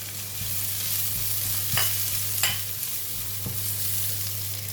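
Garlic and chili stir-fry in hot oil in a hot pan, a steady dense sizzle with a few scraping stirs and light clanks, close and without speech.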